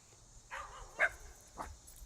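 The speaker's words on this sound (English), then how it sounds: "The dogs are intrigued by it." Dogs reacting to a small robotic toy, giving a few soft, faint barks and yips spaced about half a second apart in a quiet room.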